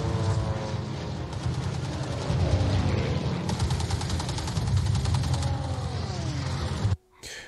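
Bomber gunners in a World War II air battle drama fire long rattling machine-gun bursts over a dense, roaring engine drone, loud and continuous before cutting off abruptly near the end.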